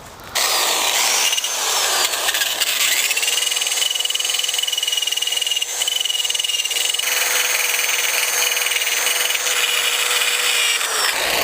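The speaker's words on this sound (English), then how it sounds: "So we have wire brush and drill." A wire brush spun by a drill scrubs a Miata engine block, a loud, sustained whirring grind with a rising pitch, running almost nonstop after a brief start.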